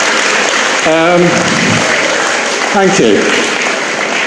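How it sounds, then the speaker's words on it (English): Round of applause from an anniversary speech audience at a Harley-Davidson motorcycle dealership, dense steady clapping filling the whole stretch while someone briefly speaks over it twice. "If we could have a round of applause for all the chapter directors over the years."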